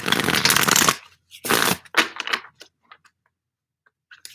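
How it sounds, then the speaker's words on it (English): Oracle and life cards being shuffled and pulled from a deck, two long papery riffling bursts up close, then a scatter of soft flicks and card snaps that fade into quiet. "I'm going to pull just a couple of life cards for you to see what comes up."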